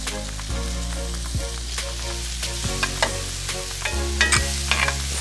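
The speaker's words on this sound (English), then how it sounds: "I'm going to go ahead and add these tomatoes to it." Diced tomatoes hit a hot Blackstone griddle coated with butter, giving a steady close sizzle broken by several scraping stirs and soft clacks of a spatula, with no talking.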